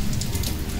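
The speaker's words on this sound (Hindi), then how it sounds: "ये बारिश रुकने का नाम ना ली।" Steady evening rain pours down in a village, a dense, continuous hiss of drops close by with no pauses.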